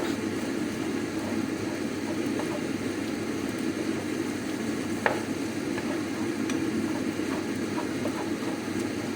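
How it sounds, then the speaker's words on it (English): Pork mince sizzling steadily in a pan as it is stirred and broken up, a constant close frying hiss with occasional faint scrapes and clicks of the utensil. "I'm going to give the mince another stir"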